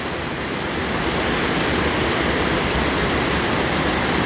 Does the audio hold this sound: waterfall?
yes